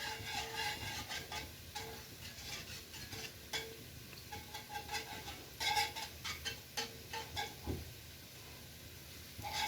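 A spoon stirs white sauce in a pan while it cooks for a baked vegetable casserole, with soft, steady scraping strokes in an irregular rhythm and a faint sizzle underneath, close and quiet, with no talk.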